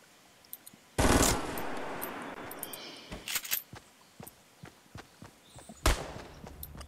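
Fortnite gunfire: a sudden loud burst of rapid automatic fire, then scattered single shots and cracks at irregular intervals, with another sharp blast near the end.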